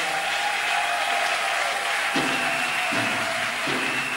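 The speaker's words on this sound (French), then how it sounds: "Acclamons aussi pour honorer Maman Viviane." Applause from a church congregation honoring Mama Vivienne, a steady wash of clapping that goes on throughout at moderate distance, with a few low thuds partway through and no talk over it.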